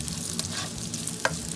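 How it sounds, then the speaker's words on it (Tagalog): Pork sausage frying in a pan while being stirred for a Filipino pancit bihon, a close, steady sizzle with light scraping of the spoon and no voices. "Isauté lang siya for 1 minute."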